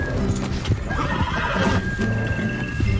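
A horse whinnies in a video game, loud and close, with clip-clopping hooves and busy game sounds around it.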